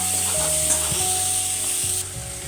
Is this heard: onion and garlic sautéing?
yes